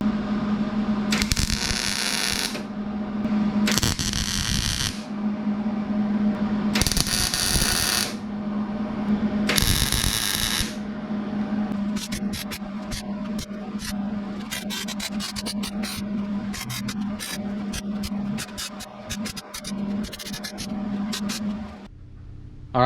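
Tack welding a square tube radiator mount on an E82 drift car, with several loud crackling bursts of a few seconds each, followed by a longer stretch of sputtering, scraping metalwork noise over a steady hum.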